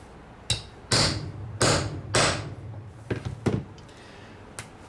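Hammer blows drive a cheap eyelet setter through kangaroo leather on an anvil: a handful of sharp, close, ringing strikes spaced irregularly, with a couple of quicker lighter taps near the end.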